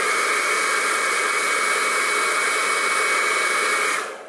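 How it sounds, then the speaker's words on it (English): A hair blow dryer aimed at freshly gelled eyelashes, a loud close steady whooshing blast that cuts off near the end, with no talk. "I'm going to blow dry them again"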